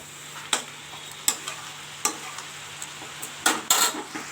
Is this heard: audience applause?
no